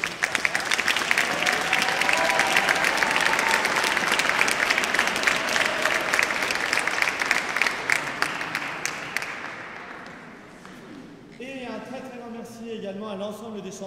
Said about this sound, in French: On peut encore une fois les applaudir bien fort.